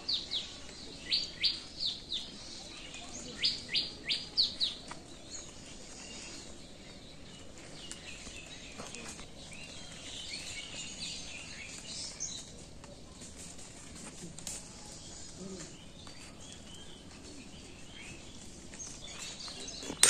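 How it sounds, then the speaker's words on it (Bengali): Morning birds chirp and call outdoors in bright, quick bursts, loudest early on and then thinning into sparse, fainter calls over a quiet background. "মানে শুধু পাখি ডাকাডাকি শুরু করছে।"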